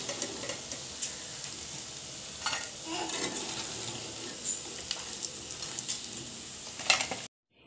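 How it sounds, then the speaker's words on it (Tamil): Idli pieces frying in hot oil in a pan while being stirred, a steady soft sizzle with scattered scraping and clinking stir strokes, close and moderately loud, no voices. "இப்போ இட்லி வந்து நல்லா ஃப்ரை ஆகி கோல்டன் ப்ரவுன் ஆயிடுச்சு."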